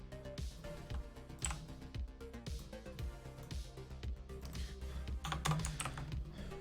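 Computer keyboard typing comes through as a steady run of quick, soft key clicks at moderate volume, with faint background music underneath.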